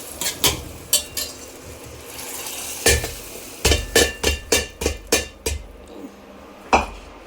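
A spoon knocks and scrapes in a metal pot of dal, giving a run of sharp, close clinks in an uneven rhythm, with a faint sizzle underneath.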